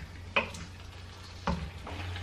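Chicken cooking in a pan, with a low, steady sizzle close by and two sharp clacks of a utensil stirring or scraping.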